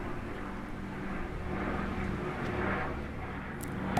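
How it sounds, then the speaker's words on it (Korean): A B-17 bomber's piston engines drone in a continuous low rumble with a steady throbbing texture, sustained and fairly loud, with no voices over it. "처음 들으신 소리는 B-17 폭격기"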